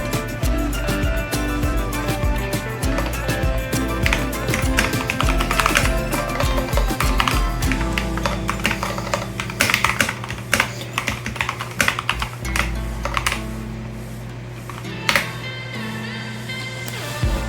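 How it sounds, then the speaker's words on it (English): Typing on a Keychron K2 Pro mechanical keyboard: a close, steady stream of rapid, crisp keystroke clicks and clacks that runs without pause throughout. "So let's do a little bit of typing,"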